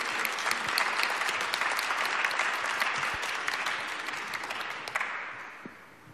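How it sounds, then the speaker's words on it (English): An audience at a sustainability conference applauds its panelists, dense, continuous clapping that holds steady and then gradually thins and fades out toward the end. "I would like to ask you for a round of applause for all the panelists"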